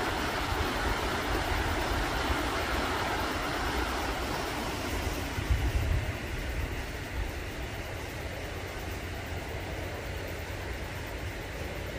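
A steady broadband rush of flowing water from the Hutt River in Lower Hutt, New Zealand fills the clip, constant and fairly loud, with no voices.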